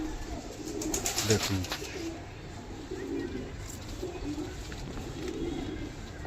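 Pigeons coo in soft repeated bursts right after a pair of birds is released, low murmuring calls spread across the stretch, with someone talking over them at times.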